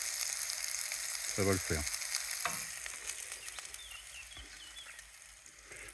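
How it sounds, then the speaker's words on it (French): Carrots, fresh onions, fresh garlic and pumpkin seeds sautéing on a parabolic solar cooker, giving a steady close sizzle with a few clanks of a utensil, and a brief remark spoken over it. "Donc là il y a une petite rissolée qui est en cours. Carottes, oignons frais, ail frais, graines de courge"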